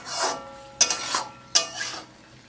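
Fried masala for fish curry being stirred in a pan once the oil has separated, a soft sizzle under two sharp scraping clanks of a spoon against the metal, close by.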